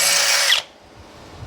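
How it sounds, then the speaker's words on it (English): A loud, steady electric drill whine that cuts off abruptly after about half a second, leaving quiet low rumbles. "I'm gonna drill some holes to run a tap through this"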